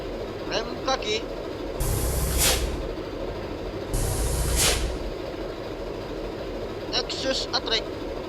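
Hino bus foot brake air in Bus Simulator Indonesia gives two loud, sustained hissing blasts of roughly a second each, set over a constant idling engine rumble, with light clicks and ticks before and after.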